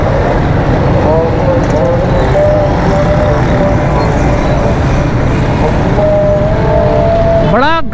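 Dense city street traffic in Karachi near Star City Mall, with a constant loud roar of engines, several horn honks and tooting, and a rising engine whine at the very end.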